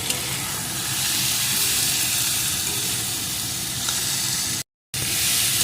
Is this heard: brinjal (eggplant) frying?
yes